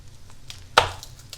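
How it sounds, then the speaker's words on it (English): A single sharp, close crack as a small garlic clove is smashed with a knife on a board, standing out alone against a quiet kitchen background. "I'm going to also smash up a little clove of garlic here."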